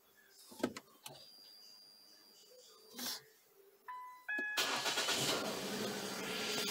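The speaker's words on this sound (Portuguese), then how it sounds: "Eu vou ligar aqui o carro para mostrar isso." A car with a Ford Duratec engine cranks and starts, following quiet clicks and a brief electric whine, then settles into a steady, fairly loud idle close by.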